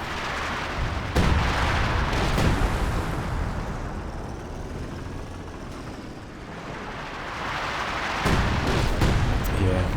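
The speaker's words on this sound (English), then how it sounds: "he's bringing in some howitzer fire behind that" Howitzer artillery barrage in Company of Heroes 2, a loud, continuous rumble of booming shell impacts, with the heaviest bursts near the start and again toward the end.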